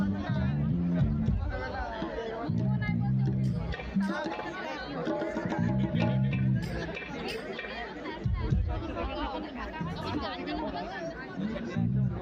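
Large crowd at the Bishnupur fair in 2025: dense, continuous babble of many voices close by, with music and chatter blending into a steady hubbub throughout.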